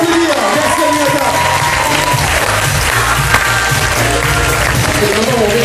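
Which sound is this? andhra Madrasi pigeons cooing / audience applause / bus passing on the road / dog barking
audience applause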